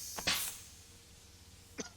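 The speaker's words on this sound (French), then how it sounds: "Pardon pour la toux." A single person coughs twice in quick succession, a short sharp burst, then a softer single cough follows after a pause, close and fairly quiet during an online Among Us gaming session.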